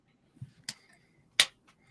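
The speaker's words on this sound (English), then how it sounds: "As they finish, Jean claps." Jean gives a few sharp claps after a sung performance, two or three crisp hits spaced apart against a quiet background.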